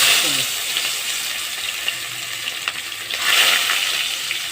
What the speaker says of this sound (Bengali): লোটে শুটকিটা কেটে ধুয়ে নিয়েছি এটাকে এখন ভেজে নেব